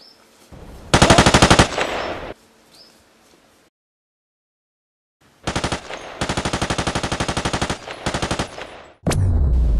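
Video game gunfire: two loud bursts of rapid automatic fire, one short and one longer with brief breaks, separated by a few seconds of near silence and ending in a sharp bang and rumble.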